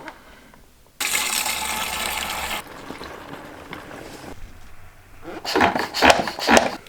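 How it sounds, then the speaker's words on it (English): Water is poured into a hydro sprayer used for cleaning air conditioning units: a hissing rush of water runs for about a second and a half, followed by quieter sloshing and a few plastic knocks and rattles nearby. "So we're just going to put some water in."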